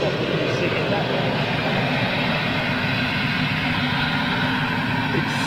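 A Lufthansa jet airliner lands with reverse thrust, a loud, continuous broadband roar that holds steady from start to finish at moderate distance.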